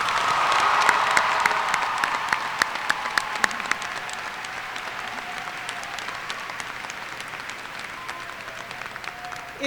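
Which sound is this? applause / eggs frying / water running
applause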